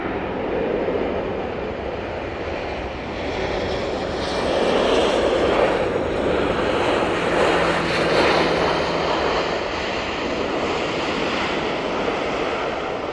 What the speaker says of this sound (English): Like that Easyjet was taking off from the back of the Aer Lingus